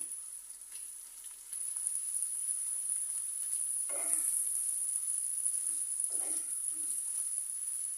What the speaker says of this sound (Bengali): এক থেকে দুই মিনিট আমি ভেজে নিয়েছি আদা রসুনগুলো